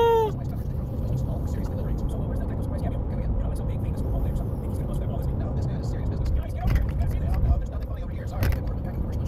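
A car drives along a road with a steady, close engine and tyre rumble throughout, the low drone swelling slightly near the end, and faint voices underneath.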